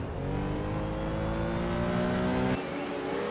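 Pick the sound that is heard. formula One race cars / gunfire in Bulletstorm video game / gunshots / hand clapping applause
formula One race cars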